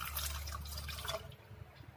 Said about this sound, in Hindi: उसके बाद हमने इसमें डाल देना है पानी।